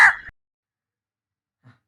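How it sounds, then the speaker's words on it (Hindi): A single crow gives one short, loud, close caw, followed by silence and a faint low sound after it. "कौवा था।"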